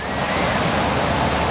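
Ocean surf breaking at Trestles during a professional surfing contest, a steady loud roar of crashing white water that fills the whole stretch without letup.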